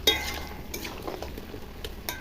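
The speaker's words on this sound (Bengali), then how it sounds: "লাউগুলা অল্প অল্প ভাজা হয়ে গেছে, বেশি তো ভাজা হবে না, জল উঠে যাচ্ছে" Quiet frying of bottle gourd in a pan, a soft crackle with scattered clinks of a utensil stirring against the metal.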